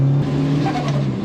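A turbo car with Honda VTEC revs hard near redline, a loud droning engine note with steady low harmonics and rising rasp in the upper range, close and continuous with no talk.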